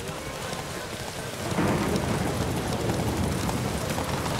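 Horses galloping in a race in The Witcher 3, a dense, steady rumble of hoofbeats with a noisy, rain-like wash that grows louder about a third of the way in and stays full to the end.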